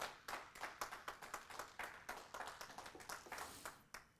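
A small group claps in a quick, fairly even rhythm for about four seconds, sharp and close, with no voices.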